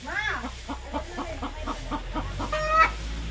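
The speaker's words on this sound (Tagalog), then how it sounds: "Ang dami pa nilang alagang manok." Chickens on a rural provincial homestead cluck in a steady, evenly spaced run of short calls close by, with another bird's call rising near the end over low background noise.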